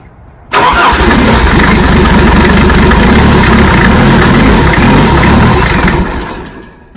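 A Mercedes diesel engine swapped into a Jeep Wrangler, with fuel flow problems, cranks with the glow plug and catches, clattering loudly at close range, then runs rough for several seconds before fading down.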